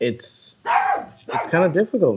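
A pet dog barks several times in quick, loud bursts, its sharp yips overlapping with a person talking in an indoor conversation.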